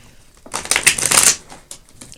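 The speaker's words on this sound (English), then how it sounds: "I do like to shuffle a little bit on camera." A deck of long tarot cards is shuffled close by in a quick burst of riffling, crisp card slaps lasting about a second, followed by a few soft taps.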